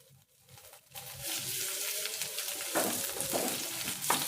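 Ginger and onion sautéing in a pan for a quick lunchbox recipe, a steady close sizzle with stirring scrapes that builds after the first second and continues with no talking.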